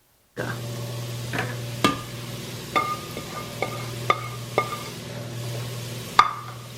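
Spices including black pepper, cayenne, dried dill and sweet paprika cooking in a pot for a creamy seafood chowder, with a steady low sizzle and several sharp spoon knocks against the pot as it is stirred, close and alone.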